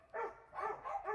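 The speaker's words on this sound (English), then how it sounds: "Sorry for the dogs barking in the background, but it's feeding time." Dogs bark at feeding time somewhere in the background, three short yapping barks in quick succession, moderately loud and with no voice over them.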